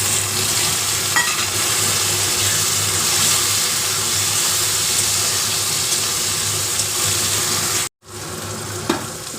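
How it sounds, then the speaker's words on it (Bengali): Tomatoes going into a hot pan of frying onion, garlic and green chilli, producing a loud, continuous close sizzle with stirring that briefly drops out near the end before resuming. "এবার আমি টমেটোটা দিয়ে দিই।"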